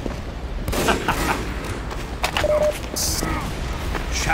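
Dense gunfire and explosive bursts from the video game Team Fortress 2 fill the background, with repeated shots and booms overlapping and a voice speaking over them.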